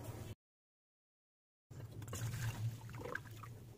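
Descaling water is poured out of a steel flask into a separate container, a faint, steady trickle that starts after a short silence and runs quietly to the end.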